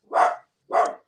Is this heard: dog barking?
yes